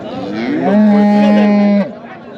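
A Sahiwal bull at a cattle market gives one long, deep, loud moo close by, steady and sustained for about a second before fading off.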